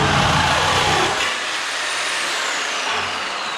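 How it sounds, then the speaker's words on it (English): A Harbor Freight reciprocating saw cuts through a car's front end, a loud, harsh buzzing rasp that fades into a lower, rougher grind as the blade works through metal. "This is a Sawzall."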